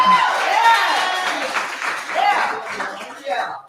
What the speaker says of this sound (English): big round of applause for Tristan Hobbs